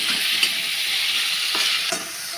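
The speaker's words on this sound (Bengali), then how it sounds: "2 থেকে 3 মিনিট টমেটোটা নেড়ে নিচ্ছি," Tomatoes frying in a pan are stirred with steady scraping strokes over a constant close sizzle, with no voices.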